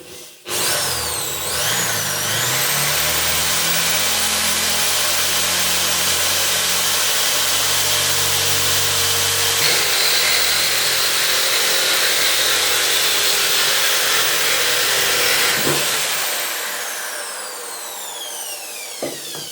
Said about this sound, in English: let go of the trigger and switch off the drill